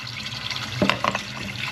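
Water runs steadily from a radiator bleed valve on an old Hydrotherm boiler heating system, a close, continuous splashing trickle with a few gurgles partway through.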